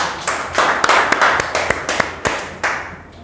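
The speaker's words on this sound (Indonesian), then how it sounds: "Oke, tepuk tangan Bapak Ibu." Audience applause at a customer gathering sales event, a brief burst of many hands clapping with a few sharp louder claps standing out, fading out after about three seconds.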